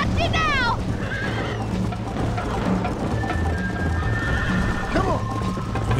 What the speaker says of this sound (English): O cavalo corre mais também.